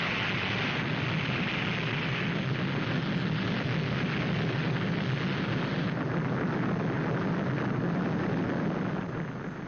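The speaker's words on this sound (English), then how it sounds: "As the missile hurtles through space," A missile launch after a countdown: a steady, loud, broadband roar of rocket thrust that holds unbroken throughout, like a dense rushing blast with no pauses.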